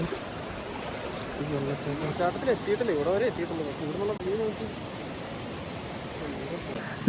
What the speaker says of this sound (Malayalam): നമ്മളങ്ങനെ വെള്ളച്ചാട്ടത്തിലൊക്കെ എത്തി പക്ഷേ കണ്ടോ ഇത്ര ഒഴുക്കുണ്ട്